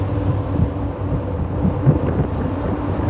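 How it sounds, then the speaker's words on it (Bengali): Strong wind and heavy rain at a Padma river ferry ghat, a steady loud roar of wind buffeting the microphone with rushing rain throughout, no talking. "প্রচণ্ড বাতাস আর অঝোর বৃষ্টি"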